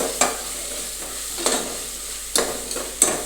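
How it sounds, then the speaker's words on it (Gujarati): Ginger garlic paste frying in a pan, with a few sharp scraping stirs spaced out over a steady low sizzle, close by and with no voices. "હવે આપણે આદુ લસણ પેસ્ટ છે તે નાખી દઈશું અને તેને બરાબર હલાવી દઈશું"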